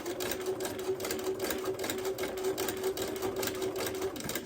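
A sewing machine stitches a seam across a quilt block, running as a close, rapid, even mechanical chatter with a steady motor hum and no pause until it stops briefly at the end.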